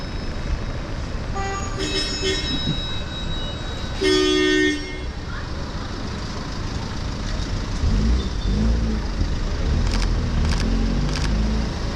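A car passing along a city street with a few short horn toots, set against steady traffic noise and a low rumble as the vehicle moves by.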